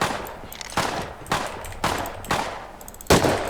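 Gunfire in the survival game Rust: four sharp broadband shots spaced roughly half a second apart, each with a short decaying tail, loud and fairly close, with no talk over them.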